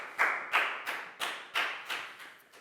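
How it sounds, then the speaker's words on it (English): Children in an English class clap for a classmate in a run of about seven evenly spaced claps, close and moderately loud, each sharp hit fading quickly before the next. "Big round of applause for Prel"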